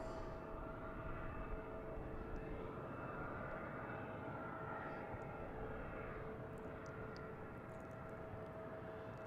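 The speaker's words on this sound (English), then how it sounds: "We got a Delta taking off, heading to DC. An Embraer" A Delta Embraer 175 jet takes off at Boston Logan airport at dusk, its engines a steady, distant broadband roar that holds evenly throughout with no talk.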